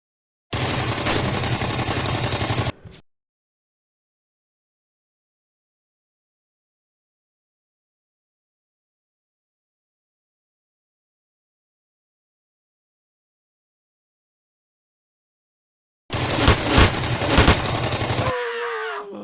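Machine gun and rifle fire from a WWII clash between German and Soviet troops comes in two loud dense bursts, one at the start and another near the end, with long silence between them.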